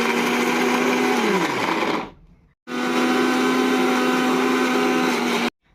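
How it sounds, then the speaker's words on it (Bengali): An electric mixer grinder grinds coconut pieces in a loud, close, high-pitched motor whine that winds down and cuts out, then starts again for a second burst before stopping abruptly. "তো সেই জন্য মিক্সিতেই গ্রাইন্ড করে নেবো"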